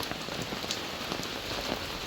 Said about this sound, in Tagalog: Tignan nyo kung gaano kalakas yung ulan.